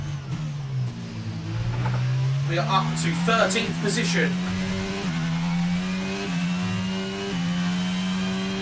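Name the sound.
F1 car engine accelerating in F1 22 video game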